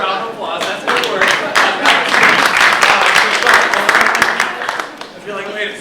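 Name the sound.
conference audience applause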